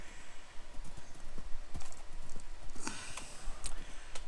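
Horse hooves clip-clopping in Minecraft, a steady run of light, quick hoof taps over a constant game background with a brief neigh-like accent, no talking.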